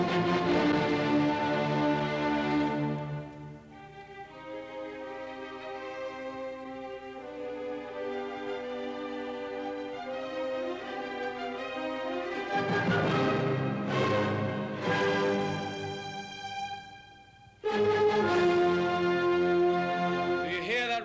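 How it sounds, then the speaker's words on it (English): Beethoven's Fifth Symphony plays from a vinyl record, full orchestral music with sustained strings and brass, swelling into loud tutti passages, a brief drop near the end, then returning strongly. "one of Beethoven's most famous songs was the Fifth Symphony"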